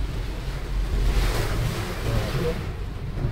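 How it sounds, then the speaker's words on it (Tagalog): Steady roaring wind buffets the microphone over a constant wash of heavy rain, loud and unbroken throughout, with no clear voices. "Malakas guys ang hangin. Pati ang ano ulan, malakas."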